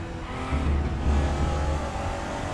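Race car engine held at low revs in high gearing, a steady loud rumbling drone that stays close and constant with slight swells, no voices over it.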